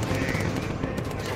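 Machine gun fire in the video game Bomber Crew, a dense, continuous rattle of rapid shots, loud and close, with no talk over it.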